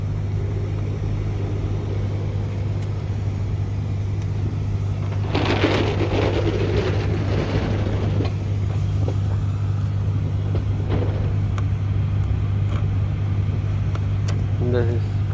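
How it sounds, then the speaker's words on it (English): A Nissan Armada's blower fan, stuck on because of a shorted blower control module, roars steadily at full speed over a low, constant hum throughout, with a person briefly speaking midway. "the blower fan working fully in high speed every time"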